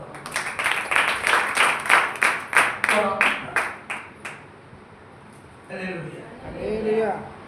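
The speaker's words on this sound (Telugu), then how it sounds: "చప్పట్లు" A congregation at an all-night prayer meeting claps hands in a steady rhythm, about a dozen loud, close claps over several seconds. A pause follows, then a voice speaks.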